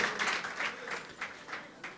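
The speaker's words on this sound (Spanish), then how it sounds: "Dale un fuerte aplauso al Rey" A church congregation claps loudly in praise during a service, giving about two seconds of lively applause with several individual claps standing out close by.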